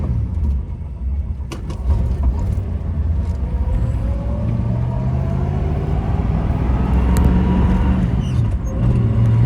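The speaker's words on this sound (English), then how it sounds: "Car drives very nice." A 1966 Ford Mustang convertible with a 289 V8 and manual transmission driving on the road, a steady low engine rumble with rising and falling gear tones, continuous and fairly loud with no talking.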